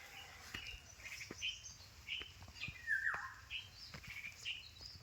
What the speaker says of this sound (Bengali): পাখির আওয়াজগুলো অনুভব করো